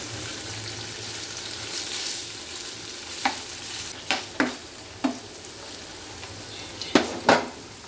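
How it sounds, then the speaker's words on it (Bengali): Paneer cubes frying in hot oil in a pan, a constant soft sizzle punctuated by a series of sharp spatula scrapes and knocks as the pieces are turned, close by and without speech. "তেলটা ভালো মতো গরম হয়ে গেছে, এবার আমি পনিরগুলো তুলে দিলাম। এবার এগুলোকে একটুখানি ভালো করে ভাজতে হবে।"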